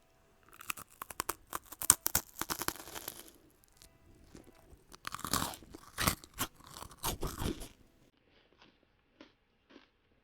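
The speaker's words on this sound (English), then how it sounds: "Your packet of chips are more crunchy" Loud, close crunching of chips from a packet, with repeated crisp bites and chewing in two bursts, then fainter scattered crackles trailing off near the end.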